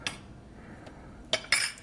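Shrimp ball paste being stirred with cornstarch, a utensil clinking against a bowl in a few sharp, separate knocks with quiet pauses between, close and fairly soft, with no talking.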